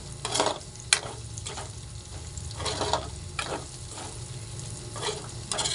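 Onion and garlic sauté in a pan for a shrimp-paste dish, producing a soft continuous sizzle broken by a few louder stirring scrapes.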